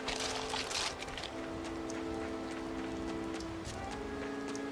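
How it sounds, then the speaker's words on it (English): Steady rain from the video game Tales of Berseria, a soft continuous patter and hiss at a low, even level with no speech. "it's the rain you're hearing right now"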